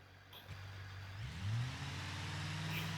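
A simulated car engine in a Blender-built custom loop track hums low, then revs up and rises in pitch as the car sets off. The engine is moderately loud and continuous, with no speech.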